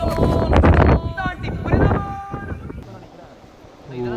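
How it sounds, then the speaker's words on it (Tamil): Strong monsoon wind on a hill buffets hard against the microphone in loud, roaring gusts, mixed with people talking. "என்ன அடி அடிக்குது காத்து."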